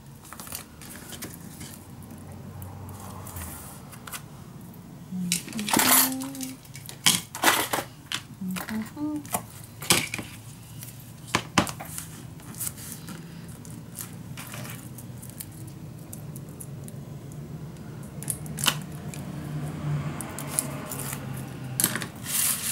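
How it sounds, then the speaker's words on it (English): Tape being added to a Stamperia Vagebond mini album: crinkling, tearing and rubbing sounds, with sharp rips in the middle of the stretch and occasional taps over quiet room noise. "Let me first add some tape on it."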